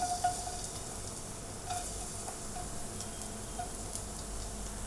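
Steady sizzling of chopped garlic frying in hot sesame oil, continuous and fairly close, with a few faint clicks and stirring sounds.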